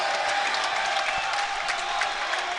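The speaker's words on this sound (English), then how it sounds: "A big ovation now from the crowd." Crowd ovation at a college basketball conference quarterfinal, a steady broad wash of applause and cheering filling the gym throughout, fairly loud and continuous.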